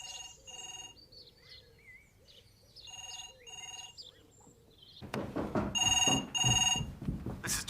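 A telephone rings in repeated double bursts with short gaps between them. Birds chirp faintly in the background, and the later rings come louder and busier over rustling noise.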